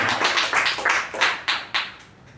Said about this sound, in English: can we have a huge round of applause for the president?